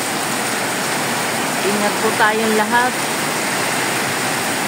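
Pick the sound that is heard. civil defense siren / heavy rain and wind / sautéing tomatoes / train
heavy rain and wind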